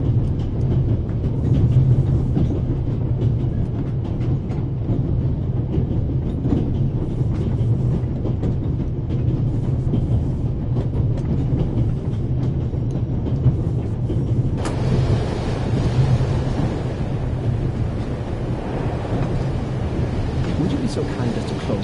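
Train rolling along a Swiss railway, a steady broadband rumble of wheels and carriage noise that holds loud and even throughout, growing brighter and hissier partway through as if a window opened.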